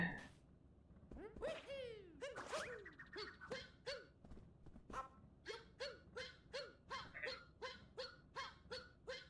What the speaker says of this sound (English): Sneezing dog.